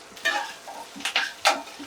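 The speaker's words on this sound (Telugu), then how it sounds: "ఈ పోపు అంతా వేగుతుంది కదండి" Green chillies, ginger and curry leaves crackle and sizzle in hot oil for a South Indian tempering, with short bursts of spluttering and the scrape of a spoon stirring the pan.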